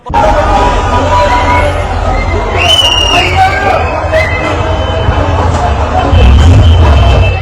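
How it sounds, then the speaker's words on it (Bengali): Street crowd in Iran and Lebanon celebrating after missile strikes on Israel, a dense, continuous hubbub of many voices with shouts and whistles rising over it, traffic rumbling low beneath. "ইসরায়েলে ক্ষেপণাস্ত্র হামলা চালানোর পর ইরান ও লেবাননের মানুষ সড়কে নেমে উল্লাস প্রকাশ করেছেন"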